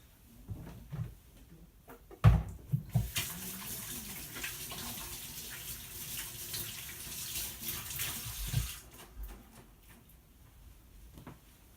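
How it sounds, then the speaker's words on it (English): Hands being washed under a running kitchen tap, water pouring steadily for several seconds after a few knocks and splashes, fairly quiet, with no talking. "Always tell people, wash your stinking hands, man, before you play in people's food"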